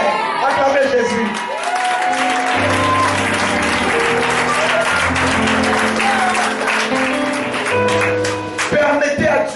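A church congregation applauds and cheers loudly and continuously, with shouts and whoops rising over a dense wash of clapping while a voice carries on above the noise.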